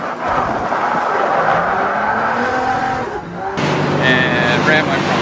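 BMW N54-powered race car engine running loudly and steadily up close, a continuous roar with shifting pitch, then a change in tone midway as the motor keeps going; a voice speaks briefly over it.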